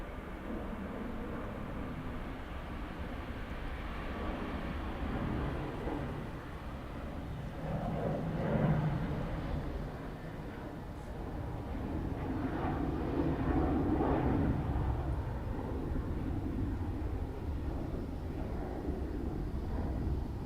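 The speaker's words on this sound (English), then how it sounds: "Right, Ryanair landed." A Ryanair jet landing at Dublin Airport gives a steady, moderately loud engine roar lasting throughout, swelling slightly midway and again near the end, with no voices over it.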